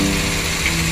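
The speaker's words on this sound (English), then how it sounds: "We're gonna pre-drill a small hole." A power drill bores a small pilot hole during a camper van conversion build, a steady, continuous whir running nearby for the whole short moment with no talk over it.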